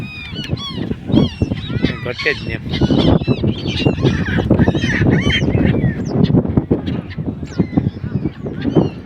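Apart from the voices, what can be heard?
birds honking at river confluence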